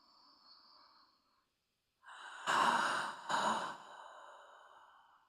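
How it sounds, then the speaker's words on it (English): Audible breathing exercise: a soft nasal inhale, a short pause, then two louder, breathy exhales through the mouth that trail off gently, close and alone. "you're going to breathe out softly through the mouth if you can."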